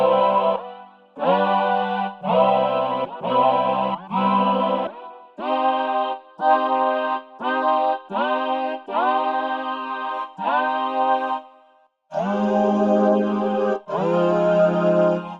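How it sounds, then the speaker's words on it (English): A Roland VP-03 Boutique vocoder plays a run of sustained, buzzy synthetic vocal notes with portamento, so the pitch glides between them. Each note is separated by a short gap, and the last two notes are louder and fuller. "there's like a little portamento effect that you can put on the sound"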